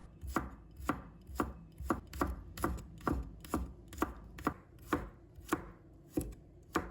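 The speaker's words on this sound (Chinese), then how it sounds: "再准备一把大蒜，把它切成片" A knife slices garlic cloves on a cutting board in about fourteen evenly spaced, crisp chops, each a sharp thud-click at a steady unhurried pace, close and alone without talk.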